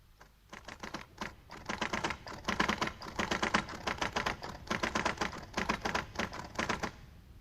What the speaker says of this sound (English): I ought to have told Mr. Birley I couldn't possibly finish typing this engrossment tonight